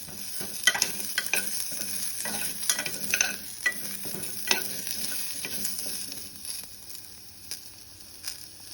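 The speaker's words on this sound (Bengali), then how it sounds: "পামকিন দিয়ে দিয়েছি, এখন একটু নেড়ে নেব।" Pumpkin pieces frying in a pan sizzle steadily while a utensil stirs them, giving irregular scraping and clattering bursts that thin out toward the end. No one speaks.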